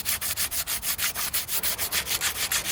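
Wood being sanded by hand on a restoration piece, with quick, even back-and-forth strokes in a steady rhythm of about six per second, close and clear.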